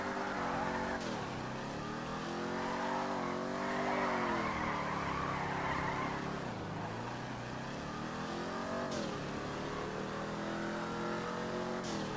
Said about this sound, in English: You hear that transmission?